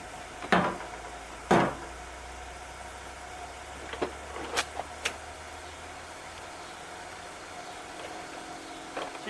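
A roadster built from a burnout truck idles with a faint, steady low rumble that fades out partway through, while a few sharp clunks and knocks sound nearby.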